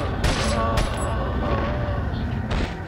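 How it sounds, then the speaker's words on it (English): Gunfire in Resident Evil 4: a few sharp, loud shots spaced out over a couple of seconds against busy game noise. "Someone's shooting at me."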